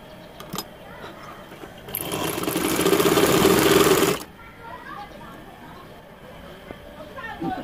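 Sewing machine stitching a piping strip onto a baby boy's fatua shirt, a loud steady whir lasting about two seconds between quieter handling sounds.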